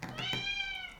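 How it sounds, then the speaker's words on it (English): A house cat meows in a single drawn-out, close call lasting most of a second, clear and alone in a quiet room. "Oh, that's my cat."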